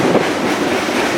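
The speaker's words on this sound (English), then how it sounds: "Not a terribly long train." A freight train rolls past with a continuous rumbling roar and faint rhythmic rattling of rail cars, heard close and steady for a brief moment.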